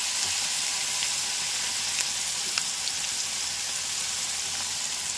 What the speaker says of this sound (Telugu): చక్కగా వేగిపోయి చిటపట్లు ఆడిపోతుంది కదండి